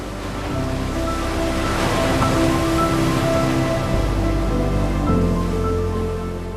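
Jang waterfall near Tawang in Arunachal Pradesh, a dense, steady roar of falling water that stays loud and unbroken throughout, with no talk.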